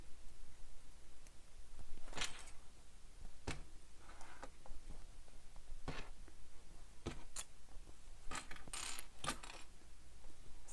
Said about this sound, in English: So I'm just clipping it in place all the way around